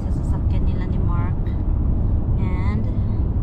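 Riding inside Mark's car in America: a steady, heavy low road rumble fills the cabin while voices and a bit of singing come through over it.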